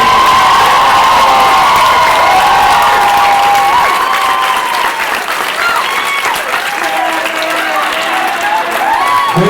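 Loud, sustained applause fills the room as a crowd cheers the winner of a 2014 Diversity Monologues pageant, with whoops and shouts rising above the steady clapping.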